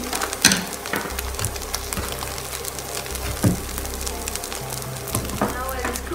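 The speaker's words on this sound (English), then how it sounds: "Now we just leave the spätzle and onion, everything in the pan, let it cook." Spätzle and onion cook in a pan on medium-high heat with a continuous, fairly loud sizzle, broken by a few scraping clunks and a low rumble underneath.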